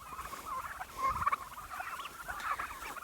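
A small flock of farm-raised turkeys chattering and peeping together, a steady mid-pitched babble of soft calls with a slightly louder burst near the middle, fairly close.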